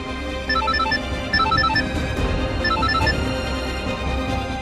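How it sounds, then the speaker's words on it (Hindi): Mobile phone ringtone playing a repeating melodic pattern of short tones over a low background hum, fairly loud and steady. "किसका फोन है करिश्मा? उठाओ ना।"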